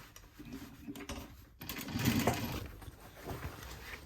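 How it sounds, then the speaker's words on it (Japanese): A heavy-duty sewing machine for thick fabric and heavy thread, stitching through denim on a jean jacket collar, runs with a steady mechanical chatter and rattle at close range, growing louder midway. "これはもう太い糸用の厚地用のミシンなんですけど、 これだと結構 ザクザクといけちゃいますね。"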